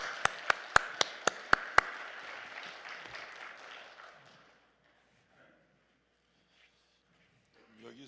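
A church congregation claps in welcome for a pastor, a dense burst of applause that swells and then fades into near silence within a few seconds, with sharp tapping hits at the start.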